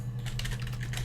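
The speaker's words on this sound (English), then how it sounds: "Let's type in Simon." Keys clatter in quick bursts as a search is typed on a keyboard for the video game Her Story, close and dry over a steady low hum, with no speech.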